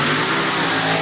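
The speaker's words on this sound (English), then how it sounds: "Into the throttle all the way down the track as dust flies" A Chrysler Mopar 440 mud racing machine roars at full throttle down a dirt track at TNT Raceway Park, a loud, sustained, harsh engine blare with no pause.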